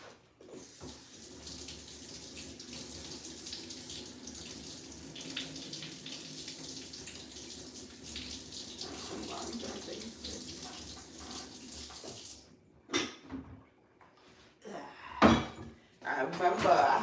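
Tap water runs steadily from a faucet for about twelve seconds while something is rinsed off underneath, the flow then cutting off and followed by a few clattering handling sounds.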